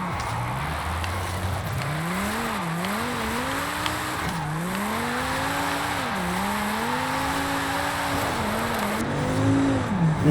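A 1971 Ford Mustang Mach 1 on an AWD drift tune in Forza Horizon 5 holds a loud, continuous engine drone whose pitch swoops up and down with throttle, layered over steady tire hiss and squeal, with no talk.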